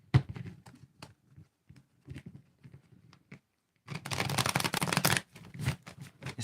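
Soft card handling with scattered flicks, then a loud, dense riffle of cards shuffling close by, ending with a few sharp snaps as the deck is squared.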